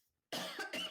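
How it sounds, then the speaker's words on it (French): A single person coughs twice in quick succession at close range, a short harsh burst after brief silence, with no other sound around it. "tu couperas, je tousse."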